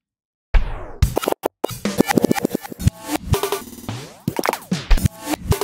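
A drum beat is sliced and reordered in real time by the TSTR Sketch preset of Logic Pro's Beat Breaker on iPad, making choppy, stuttering hits with sudden gaps and glitchy bursts after a short silence, loud and close.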